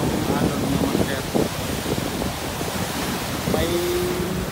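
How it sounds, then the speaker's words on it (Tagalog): Rough surf churned up by Typhoon Auring along the Davao Oriental shore, a continuous roar of crashing waves and wind buffeting the microphone, with someone speaking over it. "So tingnan nyo yung alon ng master."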